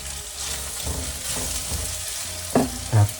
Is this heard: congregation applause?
no